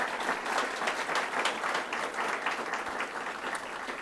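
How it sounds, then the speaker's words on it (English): A crowd at a university and community gathering ahead of Mass applauds steadily in a dense, continuous patter of many hands that holds at an even level for about four seconds. "How about a round of applause for all our Vincentians?"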